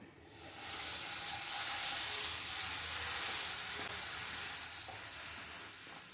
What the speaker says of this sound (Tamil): இது கூட கொஞ்சம் தண்ணி சேர்த்துக்கிறோம்